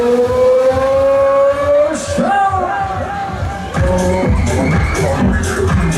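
KMG Afterburner fairground ride Extreme powering up at full speed, with loud rising and falling whine over a rumbling mechanical roar, a sudden pitch drop partway through, amid a fairground crowd and a voice over a loudspeaker.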